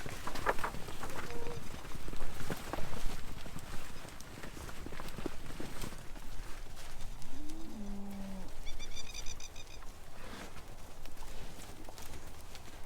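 Cattle drafted on a farm moo and low loudly, several calls spaced through a busy stretch of hoof clatter and movement noise, with no talk.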